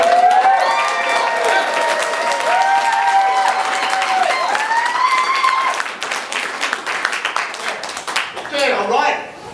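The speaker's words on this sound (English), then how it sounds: "Let's give him a round of applause." A theatre audience at a live comedy show applauds and cheers for a long stretch, dense clapping with whoops and a held cry rising over it, fading toward the end.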